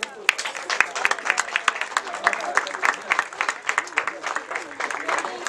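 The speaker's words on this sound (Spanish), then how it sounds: "le brindamos este fuerte aplauso" Audience applause at a trotting horse-racing event, with sharp individual claps punctuating the rhythm, while voices carry over and through the clapping.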